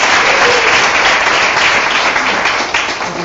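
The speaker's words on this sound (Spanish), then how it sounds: "por favor un aplauso a Patricia." Loud, close applause from a conference audience welcoming a speaker named Patricia, a full wash of clapping that holds steady and starts tapering off near the end.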